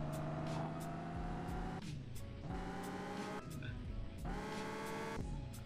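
Car engine from the Car For Sale Simulator video game, a Mercedes S-class, droning and revving in long sustained tones that rise and drop sharply between gear changes, loud and continuous throughout.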